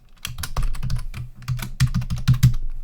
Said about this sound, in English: we're going to type a new password